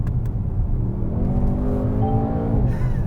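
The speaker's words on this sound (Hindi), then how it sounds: "जब मैंने एग्जॉस्ट ऑन किया एक मेजर डिफरेंस आ जाता है एग्जॉस्ट में" A Mercedes-AMG GT 63 S 4-door coupe with its exhaust opened rises in a smooth rev over heavy wind and road rumble, its engine note climbing steadily while driving.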